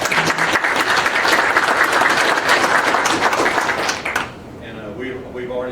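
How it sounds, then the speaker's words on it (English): Audience at a city council meeting breaks into loud, sustained applause that fills about four seconds, then cuts off and gives way to a voice speaking. "And let's give her a round of applause."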